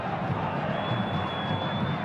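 A dense, steady roar from a large Vasco football crowd in a Brazilian stadium during a match against São Paulo, a continuous distant wash of voices with no distinct chants standing out.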